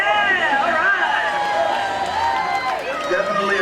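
At an evening Carolina Rollergirls roller derby bout, a nearby cheer section of crowd voices yells and whoops in a loud, continuous wash of excited shouting and babble, with a few claps mixed in.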